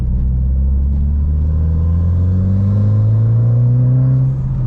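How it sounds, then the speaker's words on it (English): A car engine revs hard at full throttle, its pitch climbing steadily and loudly for several seconds before easing off at the end. "Let's go do another little hit, wide open throttle hit"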